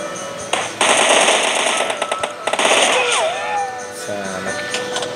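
SCAR-L assault rifle in the game PUBG fires rapid automatic bursts, loud and close, in a team deathmatch with other game sounds.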